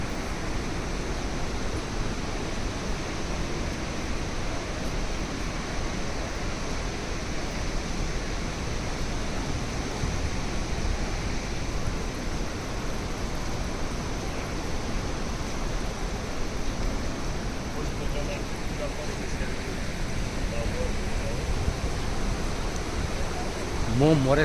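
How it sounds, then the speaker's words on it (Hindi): Montmorency waterfall near Quebec, Canada, pours with a constant, dense roar that fills the whole stretch, loud and steady, with faint voices of tourists blending beneath it. "मोंटमोरेंसी वाटरफॉल"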